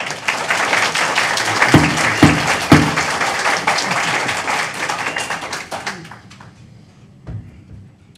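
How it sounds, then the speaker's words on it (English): Applause from a public meeting audience, dense clapping and cheering with a few sharp claps standing out, loud at first and then thinning and fading away near the end. "please hold applause and cheering down"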